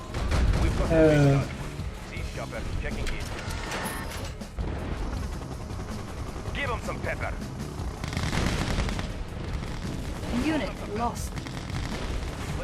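Artillery fire rumbles through a battle in the video game Red Alert 2, with repeated booms, gunfire and crashing impacts running continuously under a talking voice and in-game unit voice lines.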